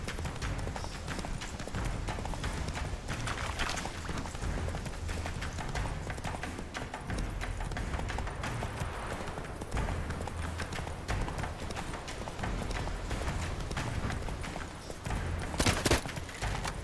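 The horse Roach gallops in the video game Witcher 3, its hoofbeats drumming in a fast, continuous rhythm, with scattered clashes and bursts of action noise layered over the run.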